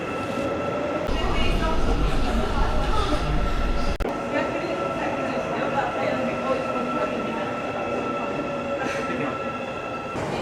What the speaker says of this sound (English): All right, our train came.